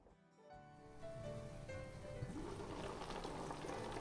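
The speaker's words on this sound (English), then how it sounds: "I can hear it bubbling." A pot of Armenian dolma in water comes to a boil on the stove, a dense continuous bubbling and simmering that swells slightly louder over a few seconds, close by and with no talking.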